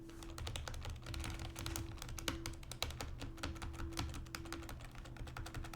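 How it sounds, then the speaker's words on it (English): A computer keyboard's enter key is pressed rapidly again and again, a dense run of quick plastic clicks close to the mic over a low steady hum. "I just went from using my mouse to using my enter key because I feel like I'm clicking it a lot faster."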